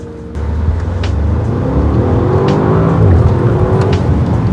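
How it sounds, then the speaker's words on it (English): 2023 Bentley Bentayga S launching at full throttle in sport mode, the engine roaring loudly as it pulls hard through rising revs and gear changes, heard from inside the cabin with no talking. "Okay, it's time to launch it. We're in sport mode. Smash the brake, floor the throttle."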